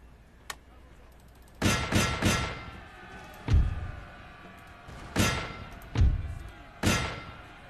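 Melee combat clashes in Napoleon: Total War, with loud metallic clangs and heavy thuds arriving in irregular bursts over a low battlefield rumble, with no talking.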